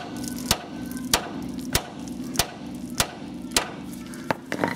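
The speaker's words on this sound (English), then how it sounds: "hopefully one clump with the lump hammer will do this" Eight sharp metallic lump hammer blows strike a ball joint on a VW T25 steering rack at a steady, even pace, each a loud crack with a short ring, over a low background hum.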